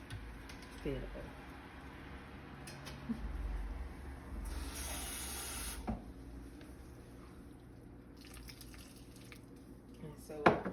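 Water runs and splashes into a pot with a hissing spray midway, amid dripping and faint clatter, as a voice talks quietly in the background.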